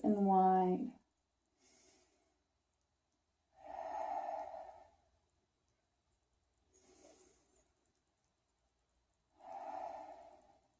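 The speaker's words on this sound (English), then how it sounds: "We're going to take 9 deep breaths here." Deep, slow ujjayi yoga breaths come in soft separated bursts, each a breathy hiss rising and fading, with a calm voice speaking briefly at the start.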